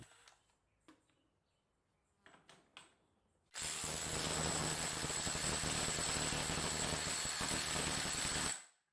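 Milwaukee cordless impact wrench in a torque test: a few faint clicks and taps, then a sudden loud, sustained hammering burst for about five seconds that cuts off sharply.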